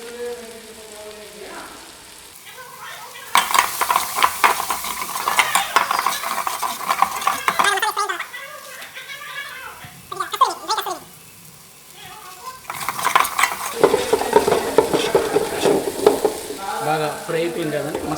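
Masala with coriander powder and garam masala fries and is stirred in a pan for capsicum curry, a loud close sizzle with busy scraping strokes in two long bursts separated by a quieter stretch, voices faintly underneath.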